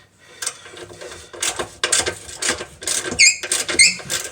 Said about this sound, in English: we're going to take our 13mm socket with our 3/8 ratchet. We're going to just start